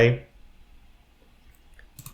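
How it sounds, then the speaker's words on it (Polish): A single short, quiet click of a mouse pressing an OK button in software, heard right after a voice stops speaking, followed by a faint second tap. "i mogę kliknąć OK"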